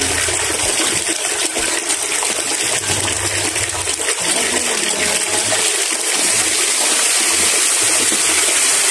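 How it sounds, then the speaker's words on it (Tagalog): Continuous hissing gush of water flowing from a water pump, loud and close, with a faint low mechanical hum beneath it and no speech. "Bomba ang ginagamit namin."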